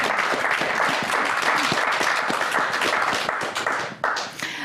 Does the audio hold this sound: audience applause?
yes